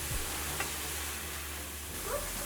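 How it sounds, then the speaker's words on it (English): Vegetables and mushrooms sauté in a pan with a soft, steady sizzle and occasional stirring clinks, close and moderately quiet, no talking. "Let this saute until the mushrooms are tender."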